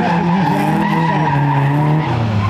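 Cars skidding around an autoslalom course at a Ukrainian championship stage in Lviv, a continuous loud engine drone with sustained tire squeal throughout, close by and without speech.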